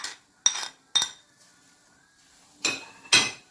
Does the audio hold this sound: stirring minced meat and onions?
yes